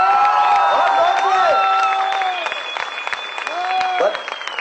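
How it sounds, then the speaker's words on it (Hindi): An audience applauds for Shahrukh at a gathering, a close, sustained burst of clapping mixed with crowd cheering and whoops, fading somewhat midway, with voices calling out over it. "जरा ताली हो जाए शाहरुख भाई के लिए"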